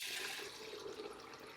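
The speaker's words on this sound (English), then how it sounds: "I'm just going to go ahead and pour this" Turkey broth pours steadily into a bowl in a continuous, close liquid splash and trickle, fairly quiet, with no talking over it.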